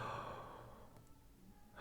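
A single long, exaggerated inhale demonstrating meditation breathing for the "So Hum" mantra, loud at first and tapering off into quiet breath, heard alone.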